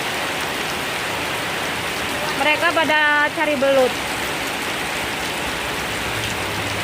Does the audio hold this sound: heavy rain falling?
yes